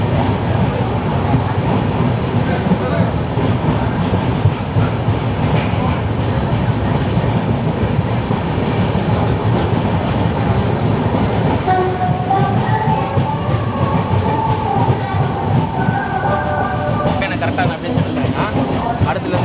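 The longest Rajdhani Express in India rolls along the rails with a loud, continuous rumble and rattle of wagons, with brief tonal squeals or a horn in the later part.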